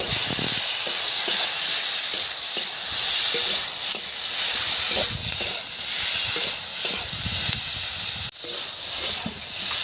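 Spices with tomato, turmeric and slit green chili frying in a pan, a continuous bright sizzling hiss with occasional stirring scrapes and a brief dip near the end, no voices.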